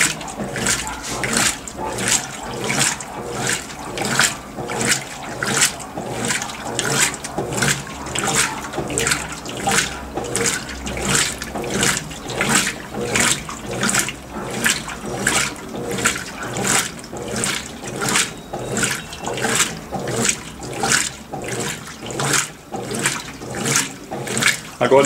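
A Consul 16 kg CWL16AB washing machine runs its whites cycle with water, churning in a steady rhythmic slosh and swish repeated about once a second, loud and close throughout.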